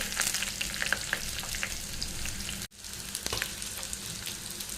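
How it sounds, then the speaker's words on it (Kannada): Steady sizzling of a tempering of mustard seeds, garlic and curry leaves in hot oil, crackling and popping throughout, with a brief dropout partway before the frying noise resumes. "ಇಲ್ಲಿ ಒಗ್ಗರಣೆ ಎಣ್ಣೆ ಹಾಕಿ ಸಾಸಿವೆ ಹಾಕಿದ್ದೇನೆ"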